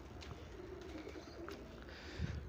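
Pigeons at a zoo give soft, low cooing calls against quiet background noise, with a slightly louder coo near the end.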